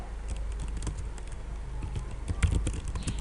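Computer keyboard keys pressed in scattered, irregular clicks while writing Java code, with a slightly heavier keystroke near the end, close and fairly quiet.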